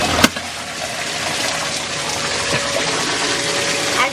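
An Intex sand filter pump runs in backwash mode, giving a steady broadband rush of water and motor hum with a sharp knock near the start, close and constant throughout.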